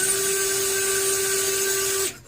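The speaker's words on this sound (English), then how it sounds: "And now I might use a drill to run it." A power drill drives a screw while installing a Kwikset door lock, whining at a steady high pitch for about two seconds, then winding down and stopping.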